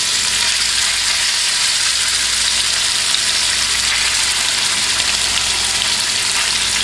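Chicken pieces frying in hot sesame oil in a pan, a loud, steady, close sizzle with dense crackle that holds evenly throughout without talk.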